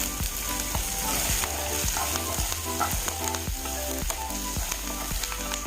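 Garlic and curry leaves fry in hot oil in a pan for drumstick chutney, a loud steady sizzle close by, punctuated by regular spoon strokes against the pan.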